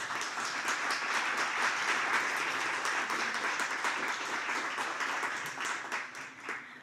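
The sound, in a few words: audience round of applause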